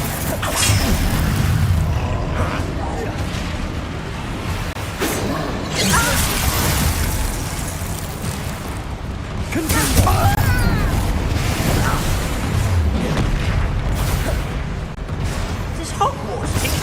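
Bombarda blasting spell explosions in the Hogwarts Legacy video game, repeated booms, crashes and whooshes in a loud, dense battle mix that runs continuously with no pauses.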